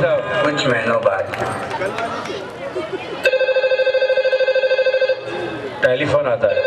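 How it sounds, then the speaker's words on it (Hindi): A telephone bell rings in a repeating, loud, even pattern of electronic trills, starting under a voice and then sounding alone for about two seconds before talk resumes. "टेलीफोन आता है।"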